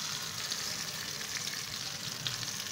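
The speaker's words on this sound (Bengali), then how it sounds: "এখন এর মধ্যে আমি দেবো মশলা পেস্টটা।" Spice paste sizzling in hot oil with tomato in a pan for a rohu fish curry, a steady close crackling hiss with small pops, no voices.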